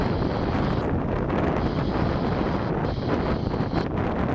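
Strong wind gusts buffet the microphone at a nighttime plane-spotting spot near Portland airport, a loud continuous rumbling roar with no voices.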